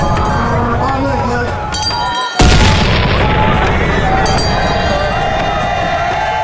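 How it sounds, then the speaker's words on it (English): A deep cannon boom strikes midway at a night festival, then a loud continuous roar carries on beneath a speaking voice and a busy crowd. "with the blast of cannon shots announcing his arrival"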